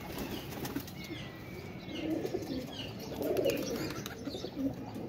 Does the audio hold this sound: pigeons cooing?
yes